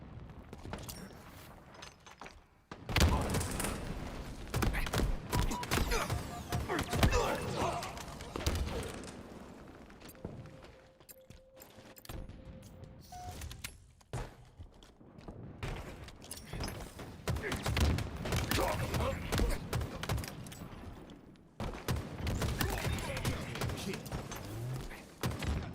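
Gunfire in a Halo multiplayer scrim: repeated bursts of rapid shots in several stretches separated by brief lulls, moderately loud, with players talking over it at times.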